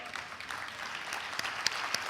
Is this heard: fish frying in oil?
no